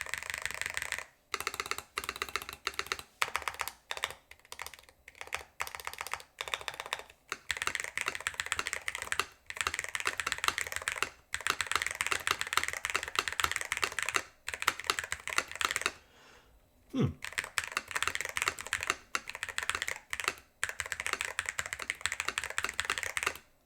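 Steady, close typing on a stock DrunkDeer A75 Ultra keyboard, dense keystrokes with a few short pauses and occasional heavier spacebar hits, no voices.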